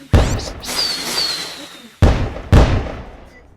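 Sharp, loud explosive bangs: one big blast followed by a long decaying rumble with a whistling tone, then two more close booms half a second apart, each trailing off.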